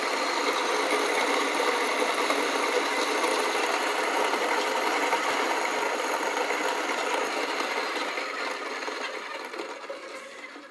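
An Acaia Orbit coffee grinder grinds 10 grams of beans with a loud, steady whirring drone that runs without a break and fades slightly near the end.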